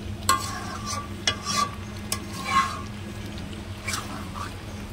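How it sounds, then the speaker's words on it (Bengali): Chicken mughlai masala is stirred and sautéed in a pan over low heat, with a few sharp scrapes and clinks of the spoon rising from a quiet, steady background hum. The stirring is faint and irregular, with no talking. "দেখুন, আমি ভালো করে এটাকে কষাচ্ছি।"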